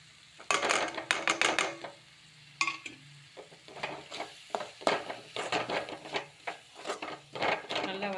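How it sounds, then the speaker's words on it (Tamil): Tomato sautéing with turmeric, coriander and chili powder for a prawn thokku, a soft sizzle under repeated close spoon scrapes and knocks against the pan, with bursts of rapid stirring and brief voice in the background. "தக்காளி நல்லா வதங்கிட்டு இப்போ வந்து மஞ்சள் தூள் மல்லித்தூள் காரத்தூள் மூணும் போட்டு நல்லா வதக்கிக்கலாம்"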